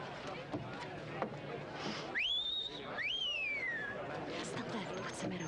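Two sharp wolf-whistles, one rising then a second swooping down, ring out clearly over a steady background of crowd chatter and murmur at a circus gathering.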